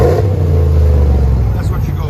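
A 2021 RAM Rebel pickup with a 5.7L HEMI V8 and Flowmaster 40 Series dual exhaust revs close by, giving a deep, loud, continuous rumble that swells briefly.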